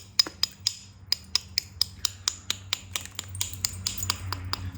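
A copper bopper with a lead head striking coastal plains chert during flintknapping, a rapid series of sharp close ticks and clicks in a steady rhythm, with a low background hum beneath.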